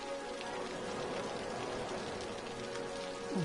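Steady rain in the city-building game Cities: Skylines on PS4, a continuous even hiss of falling drops that stays constant throughout without voices.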